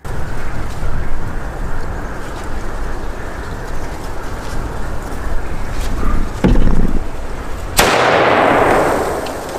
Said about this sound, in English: sees what happens if you put a fuse on a horn and light it